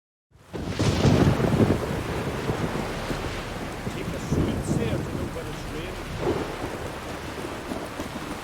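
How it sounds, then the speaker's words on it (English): Heavy rain pours steadily with a deep roll of thunder rising loudly near the start and lesser rumbles later, in a stormy outdoor scene from the Witcher 3: Wild Hunt PC game. "It's raining."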